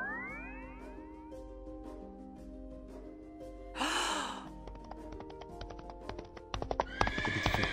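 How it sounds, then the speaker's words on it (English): Rhythmic clip-clop of hooves joined by a horse's whinny and snort, alongside tinkling, bell-like tones and sweeping musical effects. "he heard the tinkling of silver bells and the sound of a horse's hooves"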